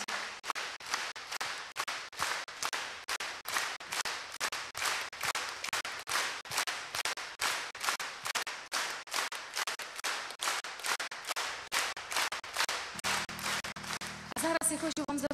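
Concert audience at a 2010 anniversary tribute programme clapping in steady rhythmic unison, a long run of evenly spaced claps filling the hall, with a brief burst of music entering near the end.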